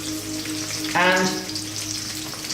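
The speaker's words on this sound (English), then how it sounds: "We're going to saute this on a medium heat for like 2 to 3 minutes only." Chili, onions and garlic hit hot coconut oil with a sudden burst of sizzling that swells briefly and settles into a steady fry, one short spoken word at the start.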